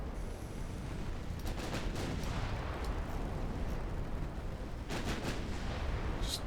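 Battleship main guns firing 10-inch high-explosive shells in a naval combat game, a continuous rumbling barrage with a few sharper blasts standing out, no voices.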